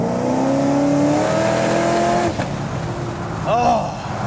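A 2007 Shelby GT500 pulls hard at part throttle, its engine note rising in a loud, sustained climb from inside the car, then cutting off at a gear change before picking up again briefly.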